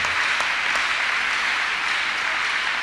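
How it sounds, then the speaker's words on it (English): A church congregation at a Thursday counselling and deliverance service claps in sustained, dense applause, steady and even throughout with no voices. "Shall we clap unto God and appreciate him?"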